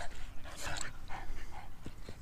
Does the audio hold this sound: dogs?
yes